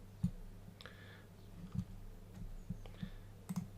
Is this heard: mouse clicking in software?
yes